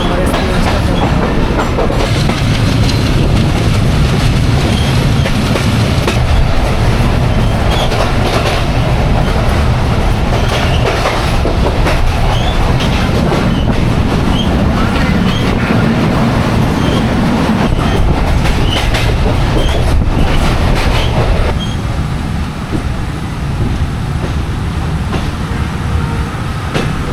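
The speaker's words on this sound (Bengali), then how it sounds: "এটা একটা লোকাল ট্রেন, প্রত্যেকটা রেলওয়ে স্টেশনে এটা থামবে।" A broad-gauge local commuter train between Khulna and Benapole rumbles along continuously, with steady wheel clatter and rolling noise filling the whole stretch, loud and close from inside the carriage.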